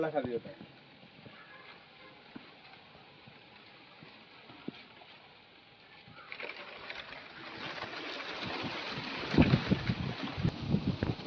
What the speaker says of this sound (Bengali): আজকে দেখুন আমাদের এখানে এত হাওয়া যে উনুনের আগুন দেখুন বাইরে দিয়ে সব বেরিয়ে যাচ্ছে